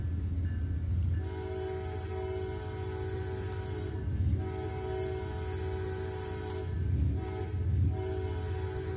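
A train in the Roblox Rail Sim Universe game rolls across the FEC diamond crossing, its steady engine drone broken by rhythmic swells as wheels pass over the junction, with no voices.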